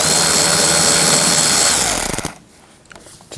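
A power tool with a 7mm socket runs a steady whir as it backs out a headlight screw on a 2009-17 Chevy Traverse, close and loud for about two seconds before cutting off to near quiet.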